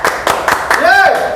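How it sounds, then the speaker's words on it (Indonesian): A studio podcast audience claps in a few sharp, evenly spaced bursts while a voice speaks over the last part. "Tepuk tangan lagi, tepuk tangan lagi, tepuk tangan lagi."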